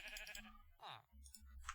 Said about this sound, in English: So we've just got a couple of sheep in here.